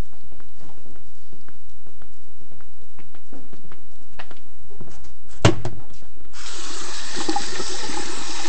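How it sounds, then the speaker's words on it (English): Tap water running into a sink during handwashing in a lecture room: a low, steady splashing patter, joined by a sharp clunk and then a louder rush of water as the flow increases, with no voices. "I'll just wash my hands"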